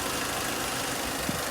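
A small car engine in a micro camper idles steadily with a low, even rumble and faint rattle, continuous and fairly quiet throughout.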